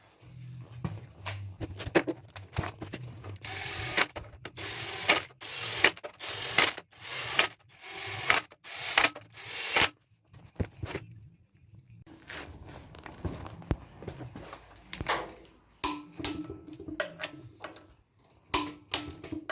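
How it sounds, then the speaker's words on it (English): Torque wrench clicking as bolts are tightened to 146 newton-metres during a donor engine change on a Land Rover Discovery 300Tdi, a run of sharp metallic clicks and clacks at irregular intervals with workshop handling noise between, close and moderately loud. "That's the last of these being torqued up to 146 newtons."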